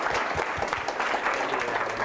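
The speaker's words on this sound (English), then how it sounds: "let's give some big round of applause to Daniel." Audience applause fills the room after a tech talk, a dense steady wash of clapping hands lasting about two seconds at moderate loudness with no talk over it.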